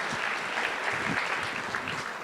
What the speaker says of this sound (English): Give him a big round of applause, our anonymous friend in the audience.